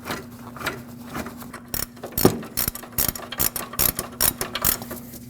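A hand ratchet clicks rapidly as it tightens a nut onto a control arm bolt on a 1998-2011 Ford Ranger front suspension, close and loud, in quick rhythmic bursts of pawl clicks.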